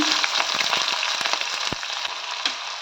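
Cumin, mustard seeds, green chilies and onions frying in hot oil, giving a steady dense sizzle with scattered pops and crackles, close and fairly loud, with no one speaking.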